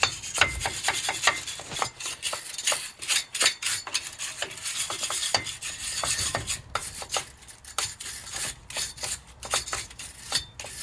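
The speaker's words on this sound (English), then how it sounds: "we're going to take a wire brush and we're going to clean all the rust off" A wire brush scrubs rust off the brake surface of a Jeep Wrangler in quick, rough, scratchy strokes, close up and uneven in rhythm.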